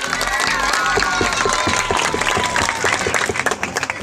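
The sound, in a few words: audience applauding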